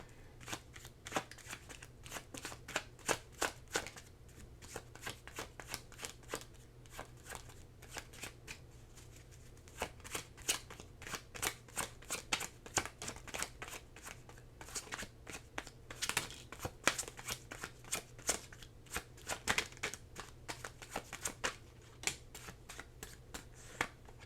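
Tarot cards are shuffled again and again, giving soft, rapid riffling and flicking bursts that repeat steadily and close by. The sound stays quiet throughout, with no speech.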